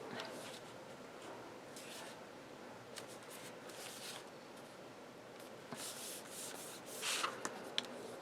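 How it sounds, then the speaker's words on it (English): Craft paper is burnished flat onto a scrapbook album page, a soft, close rubbing and scraping in quick repeated strokes, quiet with a few sharper scuffs near the end. "give that a good burnish there so it's nice and flat"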